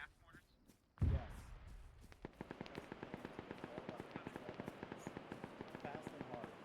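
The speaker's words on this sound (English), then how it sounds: "You want me to start shelling it with gas mortars?" Gas mortar shelling in the military shooter Arma 3: one deep, heavy thud, then a long run of rapid, evenly spaced crackling bursts at a distance.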